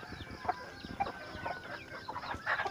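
Mother hen clucking softly near hatching brown and native chicken eggs, a series of short, quiet clucks repeating about every half second, close by.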